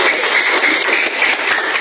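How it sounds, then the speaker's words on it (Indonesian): Brief, dense burst of audience applause in a school seminar on preventing violence in educational settings, loud and close, lasting under two seconds with no talk over it. "Tepuk tangan dulu dong."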